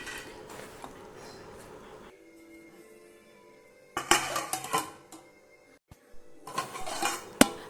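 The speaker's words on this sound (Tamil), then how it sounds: "இது போல் நம்ம மூடி எடுத்துகிட்டு அப்பப்போ கலந்து விட்டுக்கலாம்" Pot with a lid on a stovetop while a biscuit mixture made from maida flour cooks: metallic clanks of the lid, then scraping and clinking as the contents are stirred, close and intermittent.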